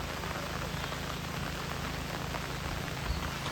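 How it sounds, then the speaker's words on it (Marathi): Steady rain falls evenly and continuously as a dense, even hiss, moderately close, with no voices and no other distinct sounds. "आता पाऊस तर बऱ्यापैकी चांगलं लागलो"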